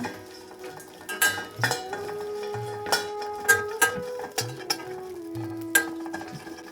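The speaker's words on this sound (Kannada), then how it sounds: "ಇವಾಗ ಒಂದು ಬಾಣಲಿಗೆ ಕರ್ಮಿನ ಹಾಕಿ ಹುರ್ಕೊಳ್ಳೋಣ" Karimeen (pearl spot fish) frying in a pan for a home-cooked sambar, with steady sizzling broken by repeated clinks and scrapes of a utensil against the pan, close up, with no talking.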